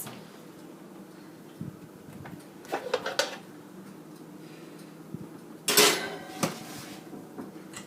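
A metal cookie sheet of spooned batter slides into a home oven with scattered clanks and rattles. A sharper metallic clatter follows near the end, over a quiet kitchen background.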